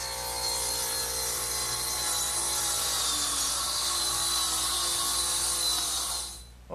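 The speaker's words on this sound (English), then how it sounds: "using my router with a 1/2-inch straight cutter in it and a cleat for a guide" Router fitted with a half-inch straight cutter, guided along a cleat while cutting wood for a rocking horse, giving a loud, steady high-pitched whine that holds for several seconds before cutting off.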